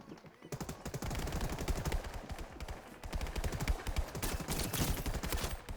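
Rapid, sustained automatic gunfire during a Fortnite fight, with loud close bursts of shots continuing almost unbroken, a brief lull near three seconds and then more intense firing.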